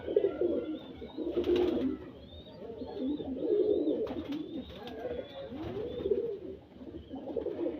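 A Kaldoma pigeon, a long-bodied bird with clipped wings, struggles in the hand, giving a few brief wing-flap bursts over steady nearby cooing and bird calls.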